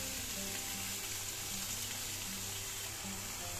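A cauliflower stalk mixture with tomato and paste fries in a pan, giving a quiet, even sizzle throughout, with no talking.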